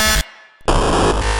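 A startup sound from the RGT app on a laptop: a loud, harsh burst of distorted, buzzy noise that cuts out abruptly, leaves a short near-silent gap, then slams back in and holds to the end.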